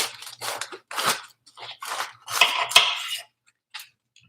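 Knife slicing a large cabbage leaf in half while making homemade sauerkraut, heard as a series of close, crisp crunching cuts in short irregular bursts with brief quiet gaps.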